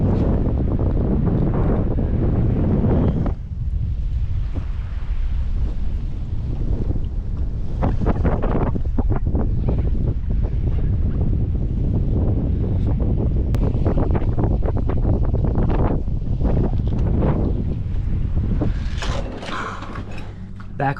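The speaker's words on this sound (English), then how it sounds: "The wind's starting to pick up again" Wind gusts roar across a sailboat mast, with steady buffeting and rattling from the rigging and hardware. The sound is loud and close, and it surges and eases over time.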